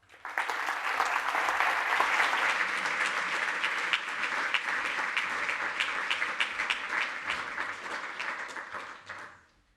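An audience at an opening ceremony of a peace-themed gathering gives sustained applause for a composer and his musician, a full, steady wash of clapping that holds for several seconds and then fades out.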